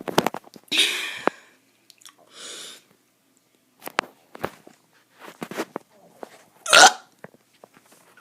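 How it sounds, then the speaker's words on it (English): A child forces out a few short burps, each an abrupt close-up burst separated by quiet pauses, with small mouth noises between them. "Now I'm going to do some burps."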